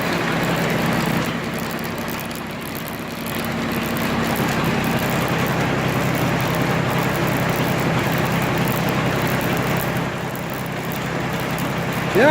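A homemade potato harvester runs steadily, its spinning chain giving a continuous loud mechanical drone and rattle with little change over the whole stretch.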